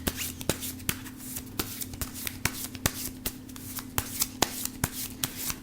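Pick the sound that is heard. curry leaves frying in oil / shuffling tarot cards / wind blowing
shuffling tarot cards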